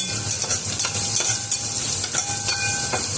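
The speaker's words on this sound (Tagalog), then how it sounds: "Kasi magigisa tayo ng gulay." Vegetables with onion sautéing in a pan, a continuous bright sizzle with repeated scraping stirs of a utensil against the pan, close and fairly loud, no talking.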